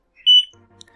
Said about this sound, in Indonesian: bunyi buzzernya dia tidak terlalu cepat, hanya alarm waspada